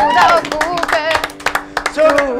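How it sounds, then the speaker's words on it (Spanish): Short bursts of hand clapping in a studio, irregular and close, mixed with cheering voices and talk throughout. "aplauso para todo el mundo"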